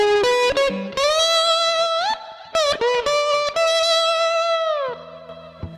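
An electric guitar plays a hybrid blues lick, mixing slide ring passages with picked notes. Quick plucks give way to long gliding sustained tones and end in a softer low chord, loud and close, with no speech.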